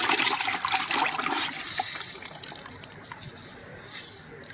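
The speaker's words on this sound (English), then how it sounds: "We're just going to give this a good rinse real quick." Water splashing and trickling while rinsing leather car seats during a deep clean, a steady close wash of liquid that is fuller at first and then thins to a softer dribble.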